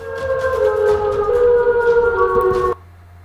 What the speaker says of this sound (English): A warning siren rips through the small town.